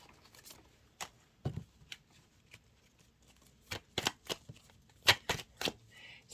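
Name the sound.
shuffling a tarot card deck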